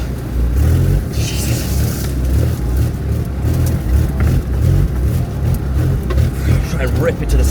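A four-wheel drive vehicle stuck in mud on an abandoned waterlogged track, its engine droning and revving hard without pause while people talk over it.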